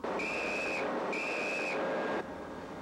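Two long steady whistle blasts sound aboard the USS Savannah, each under a second long with a short gap between them, over a constant loud hiss of wind or machinery.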